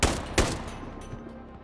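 Two sharp gunshots from Sniper Ghost Warrior 3 crack out close together near the start, each followed by a long echoing decay that fades across the rest of the moment.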